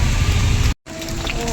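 Steady rain falling outdoors along a quiet path, a dense continuous hiss broken by a brief cut of silence midway, then resuming with faint background tones.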